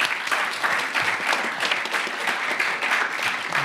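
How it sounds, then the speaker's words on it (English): An audience at a London School of Economics closing ceremony applauds, a dense, steady wash of many hands clapping that carries on throughout without a break. "Please welcome him with a huge round of applause."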